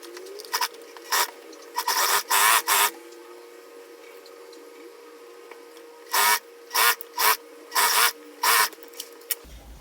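A sewing machine stitches a double seam along the edge of a dress shirt in short, loud mechanical bursts separated by quiet pauses.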